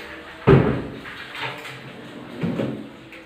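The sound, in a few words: wardrobe sliding door opening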